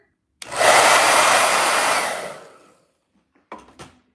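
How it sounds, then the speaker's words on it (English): A hair dryer blows close and loud for about two seconds to dry a brush pen, then winds down to silence before a couple of brief clicks. "Hair dryer, blow dryer."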